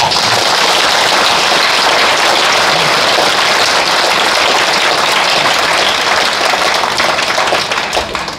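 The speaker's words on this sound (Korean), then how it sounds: "박수 한번 쳐주십시오." Sustained, dense applause from a church congregation at a New Year's Eve service, loud and steady throughout, tapering only slightly at the very end.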